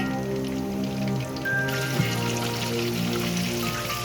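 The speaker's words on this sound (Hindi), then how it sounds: "अब मैं कोफ्ते डालती हूँ। और इसको मीडियम फ्लेम पे हम लोग फ्राई करेंगे।" Spinach koftas sizzle and crackle in hot oil over a medium flame, a constant dense spatter close by with no voices.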